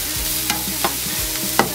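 Chicken and mushrooms frying in a pan are stirred around, with a steady sizzle beneath a few sharp scraping clicks of the utensil against the pan, close and alone.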